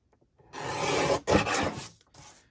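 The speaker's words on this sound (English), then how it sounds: "I'm gonna have to trim it. So I'll have to make it smaller. Trim a little off this part." Paper journal tag being trimmed, heard as close, dry rasping cuts in two or three quick bursts with short pauses between, no talking.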